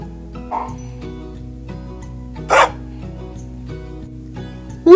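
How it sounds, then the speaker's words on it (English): A dog barks a few times, short yaps spaced apart over a soft steady musical background. ""Woof, woof," barked the dog."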